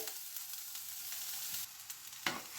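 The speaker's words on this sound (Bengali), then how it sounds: "দেখুন ফুলকপি, বিনস সব কিছু খুব সুন্দর ভাজা হয়ে গেছে" Cauliflower and beans frying in a pan, a faint continuous sizzle with a few soft stirring clicks and scrapes.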